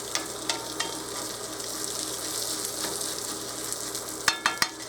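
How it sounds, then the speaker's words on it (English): Uncooked brown rice sautéing in a pan on a stovetop, a steady soft sizzle and crackle with light stirring scrapes and a few sharp clicks near the end, close and fairly quiet. "So I'm going to put my rice in there, uncooked. And I'm just going to start sauteing it a little bit."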